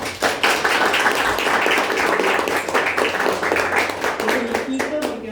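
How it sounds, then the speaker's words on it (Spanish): Clapping from a church congregation, steady and fairly loud, with a voice speaking over it in Spanish. "Damos una aplauso al Señor"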